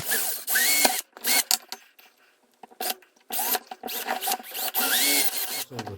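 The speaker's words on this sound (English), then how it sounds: "we've just got to drill the remainder holes for the LEDs and the DC in" Power drill boring holes in a guitar stompbox enclosure for LEDs and a DC jack. Short, close, whining bursts rise in pitch and are separated by brief pauses and small handling clicks.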